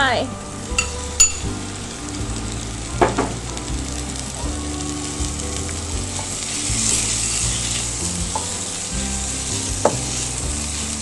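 Minced pork sizzles and fries with garlic in a pan for Thai basil pork, a steady crackle under occasional clinks and stirring scrapes.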